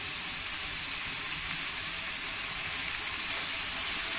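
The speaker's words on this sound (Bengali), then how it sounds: "জল দিয়ে আমি এখন এই মশলাটা কষিয়ে নেব।" Spice paste with a splash of water sizzles steadily in a pan for chicken curry, a dense, even hiss with no pauses and no voices.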